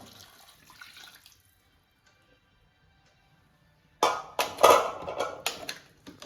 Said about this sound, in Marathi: वापरलेलं पाणी आता असं टाकायचं